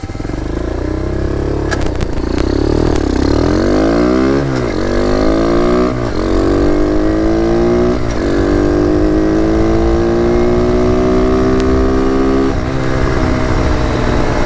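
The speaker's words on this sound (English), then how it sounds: "We're going to do a 0 to top speed." A Boom Vader mini motorbike with a small sprocket accelerates from a standstill toward top speed, its engine whining upward through several rising sweeps, loud and close with steady wind roar and no voices.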